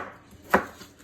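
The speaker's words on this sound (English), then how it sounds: "And just give it a nice rough chop." A single sharp knife chop through chayote on a cutting board, close and fairly loud, standing alone against a quiet kitchen background.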